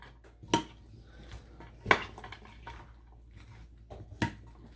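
A spoon mixes Russian salad with honey in a dish, giving a few sharp, isolated clinks against the bowl between soft, quiet squishing and stirring, with no talking.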